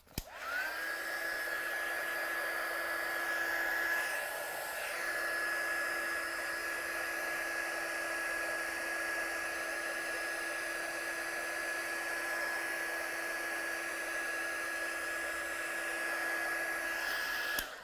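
A heat tool drying ink on a craft stamp for an ink smooshing project, a steady high-pitched whirring blow that starts abruptly, holds evenly for many seconds with a brief dip partway, then cuts off, no voices.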